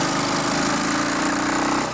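Royal Enfield Bullet 500 single-cylinder motorcycle engine, with a raised carburettor needle, holding a steady high rev, loud and continuous, heard on a test ride.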